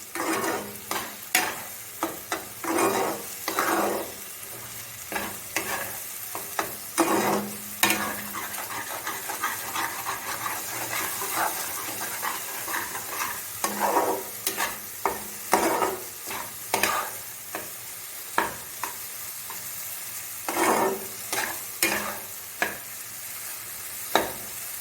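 Egg tadka frying in a pan, a continuous sizzle broken by repeated bursts of scraping and stirring with a spatula, close and fairly loud, recurring every few seconds.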